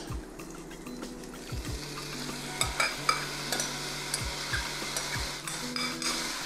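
A chicken mixture sizzles and fries in a pot while a spoon stirs and scrapes it in a repeated rhythm. Light clinks and wet bubbling sit close under a soft, steady hiss.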